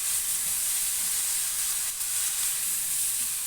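Pumpkin greens, hand-softened leaves, dropped into a pan of spiced masala give a steady, loud hissing sizzle that holds evenly throughout, with no voices.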